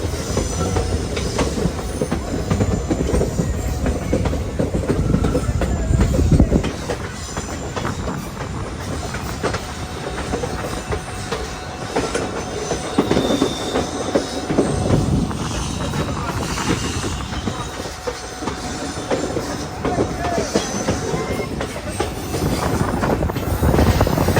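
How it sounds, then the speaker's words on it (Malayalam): The Madurai–Guruvayur Express sleeper train runs along a scenic Kerala route toward Thenmala station, with continuous rumbling, rhythmic wheel clatter and intermittent squealing wheels, under occasional talk. "തെന്മല റെയിൽവേ സ്റ്റേഷനിലേക്ക് ഇതാ നമ്മുടെ ട്രെയിൻ എത്തിക്കൊണ്ടിരിക്കുകയാണ്"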